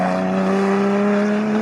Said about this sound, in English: Here they come towards us.